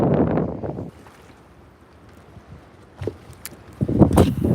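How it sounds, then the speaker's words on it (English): Strong wind gusts across open water during bass fishing from a boat, a broad rushing roar buffeting the microphone, loud at first, easing, then surging again in heavy bursts with no talking. "just keep me updated in the chat how that wind sounds on your end"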